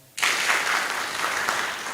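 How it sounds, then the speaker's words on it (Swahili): An audience at a ward MCA candidates' debate bursts into applause, a sudden swell of dense clapping that holds steady and fairly loud for nearly two seconds. "Makofi kwao."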